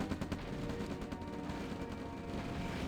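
Rapid gunfire from the OpenRA strategy game targeting an ore collector, dense repeated shots forming a continuous rattling barrage at steady loudness.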